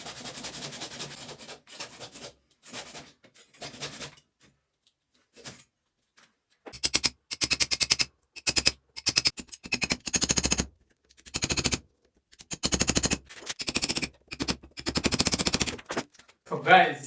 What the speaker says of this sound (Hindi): तो इसको मैं आरी ब्लेड से काट लेता हूँ